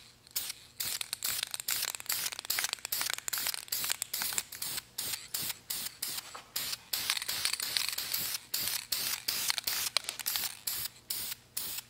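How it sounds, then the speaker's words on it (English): Repeated short bursts of clear coat hissing from an aerosol spray can onto brake calipers, pulsing on and off in a steady rhythm, close and fairly loud with no talking. "we're still gonna spray some clear coat on it"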